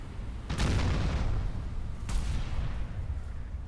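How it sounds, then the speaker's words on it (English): Naval artillery fire from an enemy ship in the World War II naval game Battleship Command: two heavy booming shots about a second and a half apart, each a broad rumbling blast that decays slowly over steady background noise. "He's trying to fire on us."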